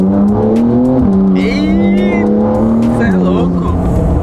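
A powerful sports car in sport mode accelerates hard, its engine drone climbing in pitch and then dropping at a gear change, with people talking and exclaiming over it inside the cabin.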